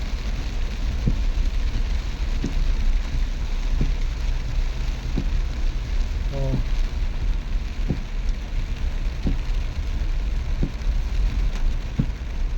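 Heavy rain drums steadily on a mini van driving through deep floodwater on a road, a dense continuous roar with sparse louder knocks scattered through it.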